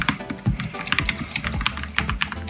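A budget gaming keyboard clicks under fast typing during Fortnite gameplay, with close, crisp, irregular keystrokes over faint game sounds.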